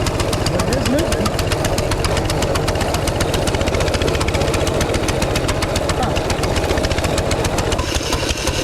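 Mini bike engine with a stuck throttle running on its own, a fast rough chattering putter held at a steady speed, close and continuous for the whole stretch, with a bit of speech over it.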